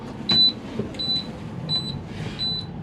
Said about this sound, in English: what you hear is my low air warning alarm